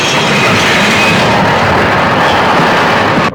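A train rolls along at speed with loud, continuous clattering wheels and rumbling carriages, close and unbroken, with no voices, cutting out abruptly at the end.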